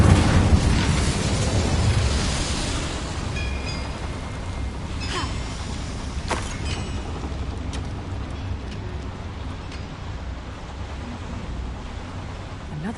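The Incendio fire spell in the video game Hogwarts Legacy goes off as a loud whooshing blast that roars at once, then fades into a long, steady fiery rumble inside a mine, with a few faint clicks later on.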